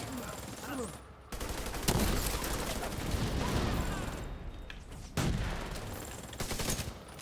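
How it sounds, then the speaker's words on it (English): Sharp sniper-rifle shots crack out in a video game, several loud separate reports with gaps between them, set against ongoing gunfire and battle noise. "Oh, well, that's a sniper."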